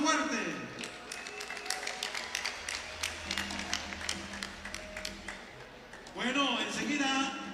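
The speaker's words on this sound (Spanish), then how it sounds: "El aplauso fuerte, por favor, de todo este hermoso público." Crowd applause and clapping at an outdoor carnival in San Juan Juquila Mixes, Yautepec, a dense continuous patter of many hands with a loudspeaker voice and music over it, swelling louder near the end.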